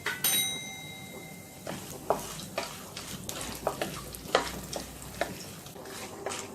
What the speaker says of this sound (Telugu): మినపప్పు, ఆవాలు, జీలకర్రను వేసి వేయించుకోవాలి.